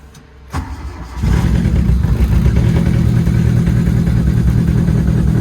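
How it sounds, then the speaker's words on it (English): Twin-engine Getz: the first engine cranks briefly, then catches and settles into a steady, close, loud idle with a rough low rumble. "Let's fire the first engine up now."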